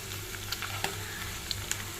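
Chili powder and turmeric sizzle in hot oil in a pan, a steady frying hiss with a few faint clicks of a spoon, close and moderately quiet, no voices.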